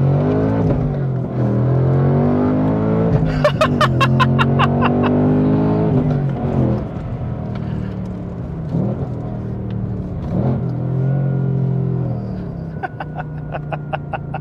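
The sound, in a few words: Ford Mustang Dark Horse V8 engine revving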